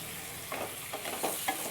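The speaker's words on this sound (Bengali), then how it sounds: "আমগুলোকে এবার ভালো করে নেড়ে চেড়ে নিচ্ছি।" Mango pieces for mango pickle being stirred in hot oil, a soft, fairly quiet sizzle under a few scraping strokes of the spoon, with no talking.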